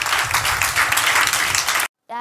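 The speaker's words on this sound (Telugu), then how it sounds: "చప్పట్లు కొట్టండి." Children at a Sunday school camp clap together in a dense, steady burst of applause with some voices mixed in, ending abruptly before a brief spoken voice.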